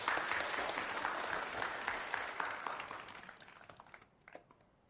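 An audience applauds to welcome a cosplaying violinist, with dense, lively clapping that stays strong for a few seconds and then gradually thins and fades to scattered claps.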